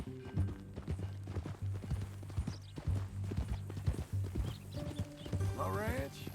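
Horse hooves clip-clop steadily in Red Dead Redemption 2 with a low musical drone beneath, the rhythmic hoofbeats continuing throughout before a brief whinny-like sweep near the end.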